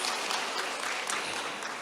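An audience at a panel discussion on teachers applauds to welcome a guest, a steady dense wash of clapping that holds for the whole short stretch without talk.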